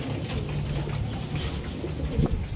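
Pigeons coo in a low, soft, repeated murmur inside a loft, close and fairly quiet, with faint mechanical clicks and rattles around them.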